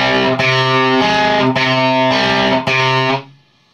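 Distorted electric guitar plays the opening riff of a song, a few loud sustained picked chords in steady rhythm that ring together and then stop, played alone with no talking.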